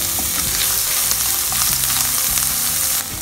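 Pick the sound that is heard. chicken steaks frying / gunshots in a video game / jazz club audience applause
chicken steaks frying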